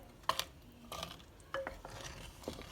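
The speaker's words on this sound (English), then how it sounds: "After you have given it a good mix, now what you need to do is just close the lid." A spoon scraping and clinking against a pot while vegetable stew is mixed for a Kerala-style veg curry, a few separate quiet stirs with light metallic taps.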